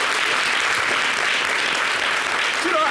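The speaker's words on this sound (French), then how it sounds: "il faut applaudir pour lui." Studio audience applauding on a French-language television talk show, a dense, sustained burst of clapping filling the whole stretch at a steady loudness.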